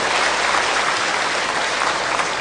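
Dense, loud applause from a university audience for a music group at a live show, a sustained roar of clapping with no talk over it.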